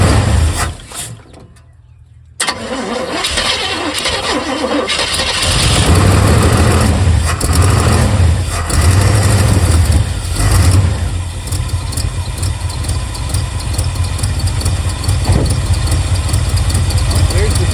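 A 1978 GMC truck engine, revived after sitting for years, cranks and catches, then settles into a steady rough idle with loud, continuous low rumble that persists to the end.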